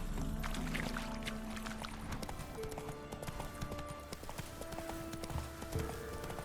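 Steady clip-clopping hooves of a horse at a brisk walk in The Witcher 3 video game, close and rhythmic, with faint game music tones in the background.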